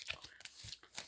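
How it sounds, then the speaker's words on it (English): Tarot cards are shuffled by hand, giving a quick run of papery riffles and soft slaps, close and fairly quiet, in short irregular bursts with no speech. "I'm just going to do a shuffle right now with the collective"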